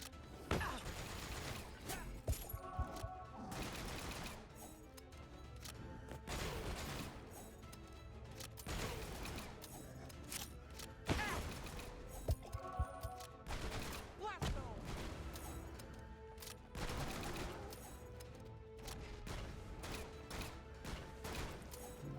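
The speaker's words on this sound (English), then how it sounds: "Fire in the hole. We do have a grenade." Grenade blast in the FPS roguelite Guns and Dragons, among repeated loud gunfire and impact bursts, heavy crashes recurring through a busy stretch of combat with someone speaking over it.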